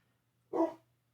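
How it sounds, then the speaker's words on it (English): A single dog bark, short and moderately loud, rings out once from nearby in an otherwise quiet indoor room with no talking. "Sorry about the dog."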